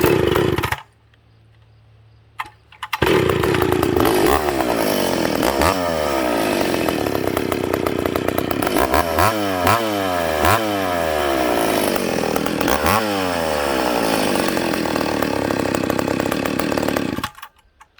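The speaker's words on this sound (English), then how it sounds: "That's a good running power saw. It restarts well, it idles." A ported and piped McCulloch Pro Mac 850 chainsaw starts up after a brief quiet spell and runs loud and close, revving up and down repeatedly in rising, falling bursts before cutting off.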